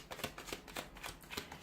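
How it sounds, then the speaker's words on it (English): Tarot cards being shuffled by hand, a quick run of soft riffling bursts and papery flutters repeating roughly every fraction of a second, close and fairly quiet with no talking. "So we'll give the cards a shuffle"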